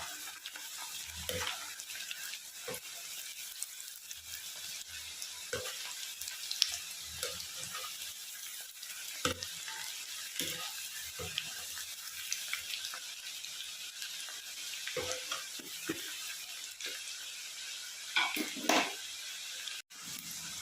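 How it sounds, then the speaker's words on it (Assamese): Potato sticks for homemade French fries fry in hot oil, a steady close sizzle and crackle running throughout, with occasional stirring clatters and scrapes punctuating the hiss. "এইখিনি একেবাৰে এতিয়া মচমচীয়া কৰি মই ভাজি ল'ম।"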